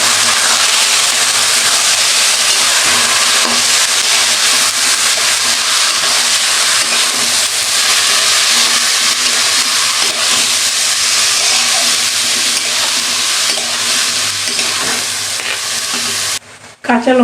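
Rice and lentils for bhuna khichuri fry and sizzle steadily in a pan while being stirred, a loud continuous hiss with scraping stir sounds throughout, briefly cut off near the end.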